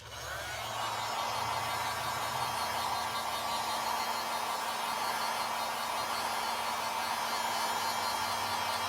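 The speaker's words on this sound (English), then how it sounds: "now I'm gonna hit it with my dryer" A hair dryer blows steadily on freshly stenciled paint, a constant loud whooshing roar with a faint hum that runs unbroken for the whole stretch, with no voices.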